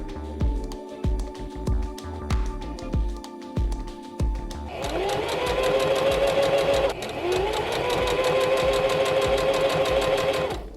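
A sewing machine stitches a hem around a garment, starting with a few short bursts and then running steadily, with a brief pause before resuming, close and loud with no talk.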